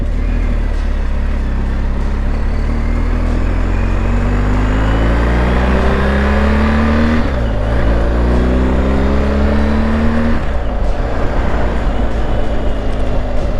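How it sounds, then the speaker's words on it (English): Stock exhaust of a BMW R 1250 GS Adventure motorcycle on a ride, a steady moderate engine drone with rising and falling tones as it accelerates and shifts through gears, continuous and fairly close under wind rush. "that stock exhaust, it's not loud, but it's got a nice tone to it"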